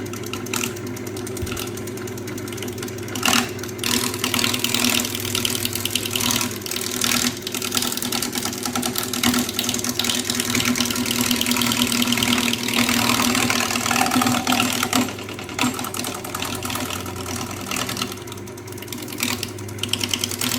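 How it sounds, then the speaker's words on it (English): A wood lathe spins a long peppermill blank into a cylinder, giving a steady, loud mechanical whir with a constant hum that runs throughout and eases slightly near the end. "set it up on the lathe, make sure it's set right"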